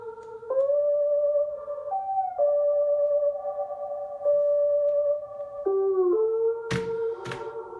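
A smooth, sustained synth lead plays a slow sequence of held notes with a filtered, sine-like tone, ending in a few sharp percussive hits.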